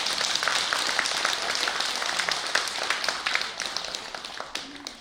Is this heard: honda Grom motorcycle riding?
no